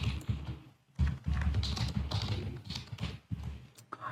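Quick, uneven bursts of keystrokes tap out on a computer keyboard up close, coming in short clustered runs separated by brief pauses.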